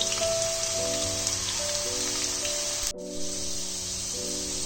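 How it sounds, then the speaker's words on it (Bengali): Potato pieces fry in hot oil until golden brown, giving a continuous, fairly soft crackling sizzle under light background music, with a brief cut partway through. "আলুগুলো গোল্ডেন ব্রাউন হওয়া পর্যন্ত ভালো করে ফ্রাই করে নিতে হবে"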